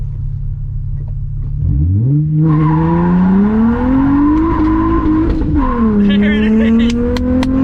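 Infiniti G35 exhaust fitted with resonated test pipes, two resonators and a muffler, idling low then revving up loud and close with a rising, sustained roar, while a person shouts excitedly over it.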